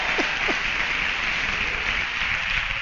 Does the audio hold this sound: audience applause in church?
yes